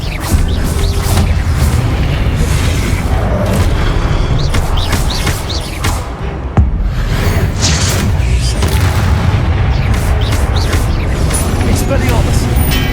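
Confringo fire-spell explosions in the video game Hogwarts Legacy, heard as repeated booms and bursts within dense, loud, continuous battle noise, with voices speaking amid the combat.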